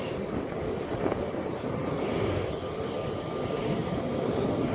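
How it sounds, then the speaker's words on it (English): An Allegiant Airbus A319 jet on Flight 117 to Phoenix at Springfield-Branson National Airport roars steadily with broadband engine noise and a faint whine, loud and continuous, heard from the ground with no talk. "Jet sounds so cool."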